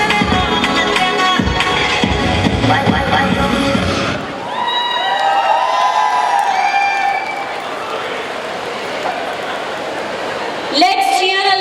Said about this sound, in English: Let's cheer aloud once more for Suhani because it was a fire performance